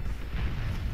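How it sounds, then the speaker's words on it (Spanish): A heavy cannon blast in the vehicle combat game Crossout, a deep rumbling boom filling a short moment with sustained low-end roar. "Y me dio otro cañonazo a mí."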